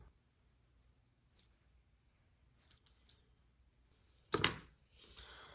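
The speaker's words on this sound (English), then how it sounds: "I'm just gonna cut along the heat shrink." Scissors snip along heat shrink tubing on a small racing drone's antenna: a few faint, sparse clicks, then one louder sharp cut and a soft rustle in an otherwise quiet room.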